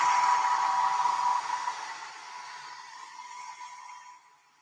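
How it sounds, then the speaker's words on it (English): A hair dryer blows over gouache paint on a gel plate, a steady airy whir close at first that fades gradually as it moves away and winds down. "Hair dryer, I'm cool"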